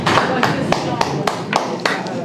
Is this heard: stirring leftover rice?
no